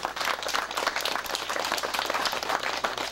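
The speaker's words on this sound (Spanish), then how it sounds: "quiero que le brinden un fuerte aplauso a nuestro festejado el día de hoy" Guests at a 72nd birthday party in San Isidro del Parral clap steadily for the man being celebrated, a dense, even wash of applause filling the room throughout.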